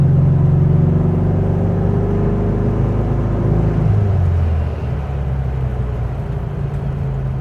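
A 1966 VW Type 3 with a 1600 engine swapped in from a 1500 and dual 34 carbs runs steadily with a low droning rumble, its pitch shifting partway through as it drives, loud and close with no talk.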